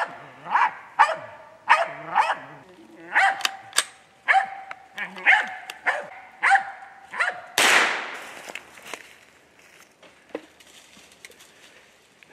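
Squirrel hunting dog barking in a steady series of loud, close barks outdoors, followed by a burst of rustling and scattered fainter yips.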